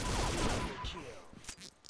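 A few tap-fired shots from an L85A1 rifle in the video game Combat Arms, short bursts with a spoken voice running underneath.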